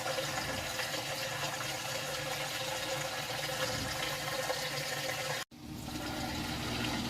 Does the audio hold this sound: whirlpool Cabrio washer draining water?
yes